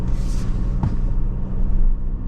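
A 1958 Toyota Land Cruiser on 34-inch tires, with a 3.5-inch lift, rolls along a road with a steady, close engine and road rumble that stays loud and even throughout.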